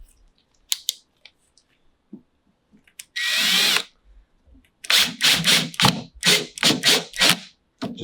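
A power drill drives screws into the grooved holes of a Vivarium Electronics VE-6 reptile rack during assembly: one long whirring burst, then a run of about six close, loud, repeated bursts with short gaps between them.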